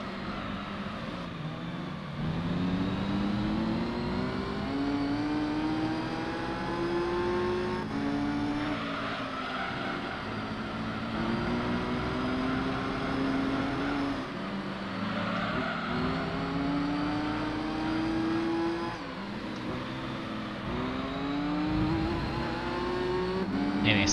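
Racing engines from the Gran Turismo 3 video game, an NSX and a Supra on the Grand Valley endurance course, whining through repeated upshifts and revs, with tire squeal and a faint voice under the steady drone.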